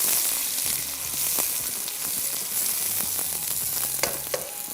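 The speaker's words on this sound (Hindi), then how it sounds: "1 अदद बड़े साइज़ का प्याज इसमें फ्राइंग शुरू हो जाएगी इसकी।" A large onion fries in a pan, an even close sizzle with scattered crackles and light stirring taps throughout.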